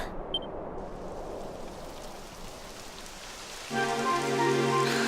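Steady rain in a Dragon Quest XI cutscene hisses across the whole clip, growing heavier and denser toward the end, with no voices.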